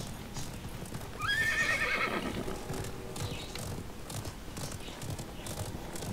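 A horse in a video game gives a single clear whinny over a quiet background, with soft clip-clop hoofbeats continuing around it at low volume.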